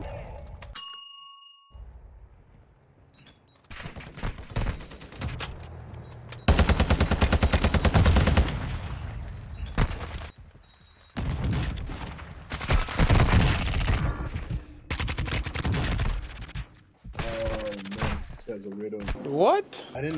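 Bursts of rapid automatic gunfire in Warzone 2.0, loud chattering volleys broken by short pauses, with metallic dings and clanks between them and a voice talking in places.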